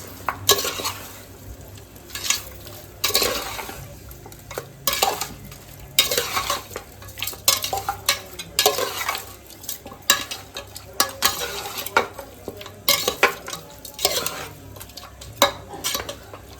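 Mutton sambar mixture with turmeric stirred in a pan, a spoon scraping and clanking against the metal in repeated strokes with soft sizzling between, close and steady without speech.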